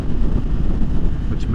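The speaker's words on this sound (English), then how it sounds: "it's also highly freaking windy out right now" Strong wind buffets a rider on a 2023 Yamaha MT-10 motorcycle, a loud, steady, low rumbling roar against the microphone throughout the brief stretch.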